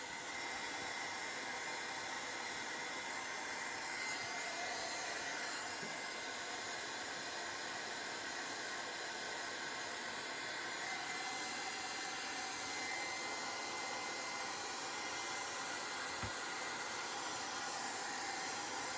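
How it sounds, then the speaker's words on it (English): A heat gun blows steadily while drying gesso on a frame, a close, continuous whooshing roar of hot air that holds even throughout with no talking. "You have to move your heat gun"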